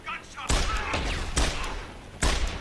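Gunshots from a weapon in the video game Deus Ex: Human Revolution, three loud, sharp broadband blasts spaced about a second apart, each trailing into a rumbling decay, with voices murmuring underneath.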